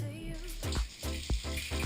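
Shower water running during a morning routine, a steady close hiss of spray with a few splashing bursts, brief and alone without voices.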